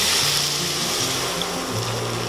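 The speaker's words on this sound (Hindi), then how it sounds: "अब हम इसमें डालते हैं दूध" Milk, about 300 ml, poured into a pan of fried, dried-out beetroot while making beetroot halwa, giving a steady, close liquid rush over a low background hum throughout.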